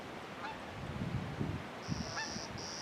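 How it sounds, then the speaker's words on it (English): A goose flies overhead outdoors, giving a few faint, distant honks spaced over a couple of seconds against quiet background noise. "There goes a goose flying by right over my head."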